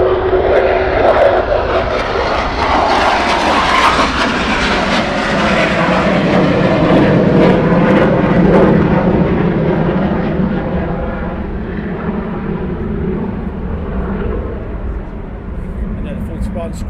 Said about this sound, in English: Squadron now taxiing on, ready for their departure.